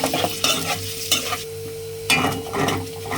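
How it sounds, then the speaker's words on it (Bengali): Onions frying in hot oil, with a constant sizzle broken by several loud scraping stirs of the spatula in the pan, heard close with no talking. "এখন ভাজবো পেঁয়াজটাকে।"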